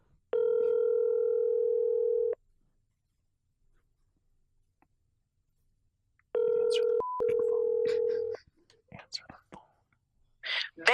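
Steady telephone tones ring out alone, a long two-second burst followed by silence, then another tone with a brief pitch change, as a number is dialed from a phone booth; faint clicks and rustling follow.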